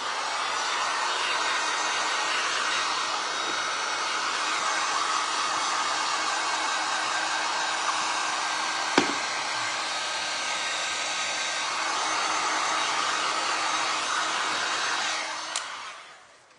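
A hair dryer blows steadily on a glass and resin art pumpkin, a loud, even whoosh that runs without a break for about fifteen seconds. Near the end a faint click is heard and the airflow cuts off.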